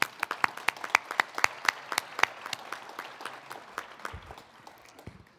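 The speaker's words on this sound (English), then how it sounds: "So a round of applause to all of you." Conference audience applauding, a burst of many claps that starts strong with sharp distinct hits and gradually thins and fades toward the end.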